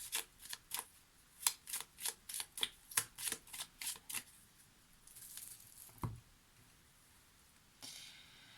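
A tarot card deck shuffled by hand in a quiet room, a quick run of about a dozen crisp riffling bursts followed by softer card slides and a single dull tap, with no talking.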